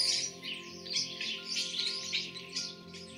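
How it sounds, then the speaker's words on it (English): Starlings chittering as a sound effect: a continuous busy stream of high chirps and twitters, moderately loud and close, with a faint insect-like buzz beneath and no talk. "The starlings chittered."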